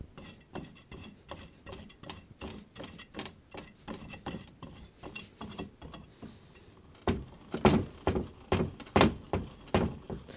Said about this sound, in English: I'm going to tighten down these 4 bolts and turn the pulley and see if we get any binding